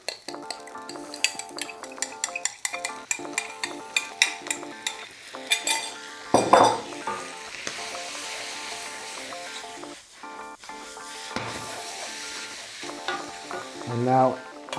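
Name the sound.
stir-frying pad thai noodles with tamarind sauce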